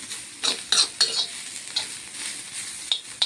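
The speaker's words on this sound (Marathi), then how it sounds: "एक ह्याच्यातच मी हे फ्राय करते" Garlic and cumin fry in a pan with a steady sizzle, broken by several sharp scraping stirs of a spoon, close and moderately loud with no talking.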